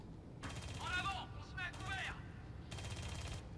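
Gunfire in the video game Aliens Colonial Marines, two rapid bursts of automatic fire, the first longer and the second shorter, mixed with game voices and mechanical clatter.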